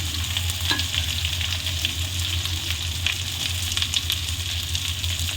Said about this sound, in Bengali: এই লঙ্কাগুলোও দিয়ে দেবো কচুরমুখির সাথে এই লঙ্কাগুলোও ভাজা হয়ে যাবে